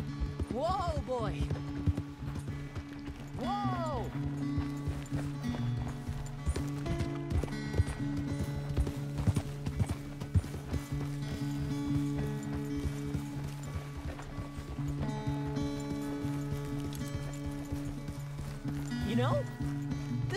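Horse hooves trot and clip-clop steadily in the Red Dead Redemption 2 video game, a continuous rhythmic patter under a low musical drone, with brief bursts of vocal sound.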